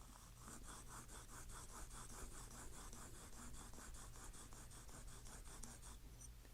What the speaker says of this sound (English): Now I'm going to the India stone here that I've got some oil on,